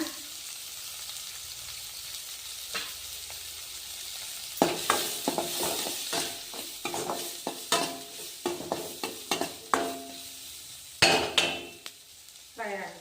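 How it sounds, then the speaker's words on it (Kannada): Garlic paste hits a hot pan for a North Karnataka bitter gourd curry, quiet at first and then breaking into bursts of sizzling and spoon-stirring scrapes, with a few sharp clinks against the pan. "ಬೆಳ್ಳುಳ್ಳಿ ಪೇಸ್ಟ್ ಹಾಕೋಣ ಜರ."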